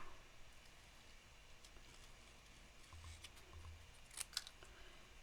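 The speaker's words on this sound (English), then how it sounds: "And then cut off excess." Scissors snip through paper during a craft cutting session, a few quiet, crisp clicks near the end over faint background hiss.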